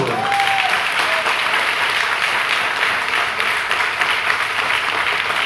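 An audience applauds steadily throughout a business opportunity meeting, dense continuous clapping from a crowd at moderate distance with no gaps, and a brief faint tone near the start.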